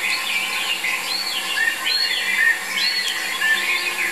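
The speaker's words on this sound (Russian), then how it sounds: "Вот птицы разгалтелись." Birds call near an eagle nest by a lake, giving repeated rising chirps and whistles over a continuous noisy outdoor background.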